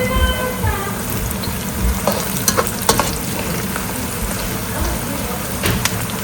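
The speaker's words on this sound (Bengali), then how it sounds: "সেজন্য পেঁয়াজটা এটার মধ্যে একটু বেরেস্তা করে নিচ্ছি।" Onions frying and being stirred in a pan until browned for biryani: a loud, continuous close-up sizzle with scattered clicks and scrapes from stirring, and no talking.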